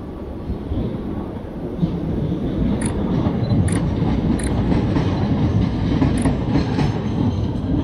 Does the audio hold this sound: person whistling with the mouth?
no